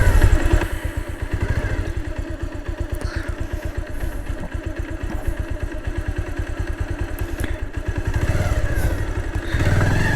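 Motorcycle engine chugging steadily at close range with a pulsing rhythm, clattering and thumping as it climbs a rough, bumpy hill road.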